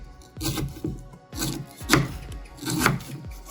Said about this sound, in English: But you need like this, chop like this.